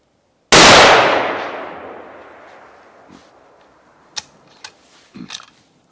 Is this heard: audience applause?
no